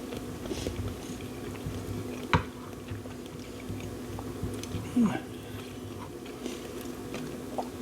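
Chili roasted shrimp bitten and chewed at a home dinner table, soft close squishy chewing with a few brief crunchy bites amid quiet room noise.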